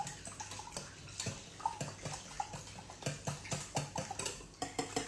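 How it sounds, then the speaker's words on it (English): A whisk clicks and taps rhythmically against a bowl while eggs are beaten into pancake batter, producing quick, close, fairly quiet repeated strikes with a faint wet swishing between them. "I do like to whisk like this"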